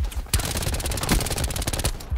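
Loud automatic gunfire in a video game shooting at players, a fast close burst of shots firing almost continuously with a short pause before the final rounds.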